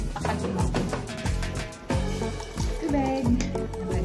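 Water pours into a cooking pan of coconut milk, papaya and tiny shrimp, a close liquid splash and trickle over ongoing sizzling and stirring noise.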